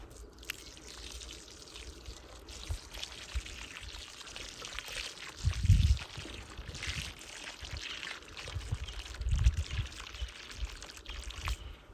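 Water is poured onto a newly planted clematis seedling, a close, soft steady trickle that swells into two heavier splashing gushes partway through, with no one talking.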